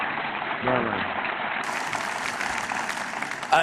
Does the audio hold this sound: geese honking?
no